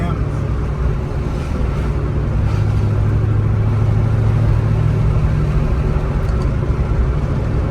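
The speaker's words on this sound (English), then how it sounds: "Fifth gear overdrive brings it to 1500 RPM." A 1986 Ford Mustang GT with a five-speed cruises in fifth-gear overdrive at around 1500 RPM, giving a steady low engine drone and road rumble, heard from inside the car without break.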